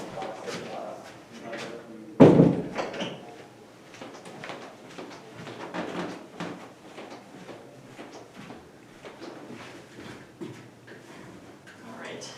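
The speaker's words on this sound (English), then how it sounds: "I'm gonna close that door" A door shut in an interview room, one sharp thud early on, followed by voices talking and shuffling room noise.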